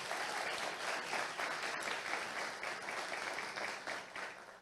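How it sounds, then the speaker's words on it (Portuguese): An audience at a lecture applauds steadily, a dense wash of clapping at moderate distance that holds evenly for several seconds before tapering slightly. "pedir uma salva de palmas às mulheres aqui presentes"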